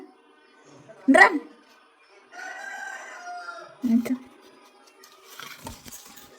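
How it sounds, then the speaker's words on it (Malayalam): A rooster crows close by, followed by a longer drawn-out crow and a few shorter calls against a quiet background. "റൂസ്റ്റർ"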